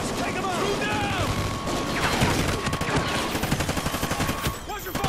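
Rapid gunfire crackles in a firefight in the video game Call of Duty Ghosts, with dense bursts of shots, mechanical clatter and shouted voices layered over battle noise and music, growing into sharper distinct reports toward the end.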